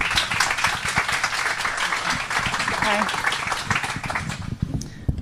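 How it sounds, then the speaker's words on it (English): An audience at a conference talk claps and applauds for a speaker coming on stage, a dense patter of many hands that sits under speech and fades toward the end. "Give her a round of applause"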